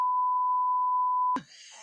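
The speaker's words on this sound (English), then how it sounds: "so you're gonna beep that out" A steady, loud censor beep tone holds for over a second, then cuts off abruptly into a brief burst of speech.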